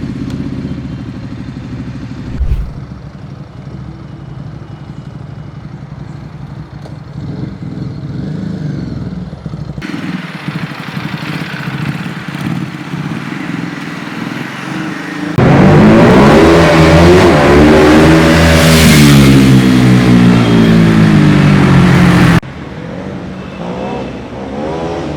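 A Ducati Hypermotard 821 motorcycle engine runs and revs, building from a steady idle-like drone to a loud, rising, close pass-by roar, then easing back down, with no talk over it.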